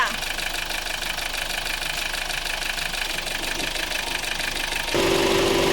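A Chevrolet Captiva diesel engine idles smoothly, a steady, even hum with a mechanical rattle, close up, its tone shifting slightly near the end.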